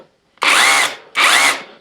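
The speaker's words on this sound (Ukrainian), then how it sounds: "Це вже нормальний перфоратор, він реально сверлить." A rotary hammer drill from a DeWalt/Makita-style 5-in-1 kit runs in two loud, close bursts, each a harsh whirring roar lasting about half a second with a short pause between.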